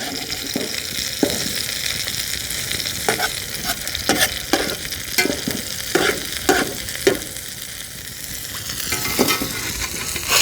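Hamburger patties fry in a cast-iron skillet at a campsite, a steady broad sizzle running throughout with sharp crackles and spatula scrapes popping out at irregular intervals, close and fairly loud, with no talking.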